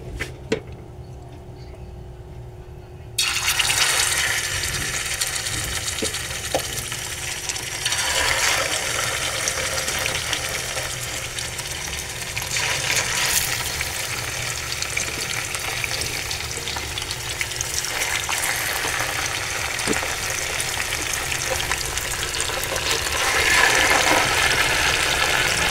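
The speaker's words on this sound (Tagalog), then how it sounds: "Prito po natin." White salmon fish steak frying in hot cooking oil, a loud, steady, close sizzle that bursts in after a short quiet start and crackles on without a break, with no voices.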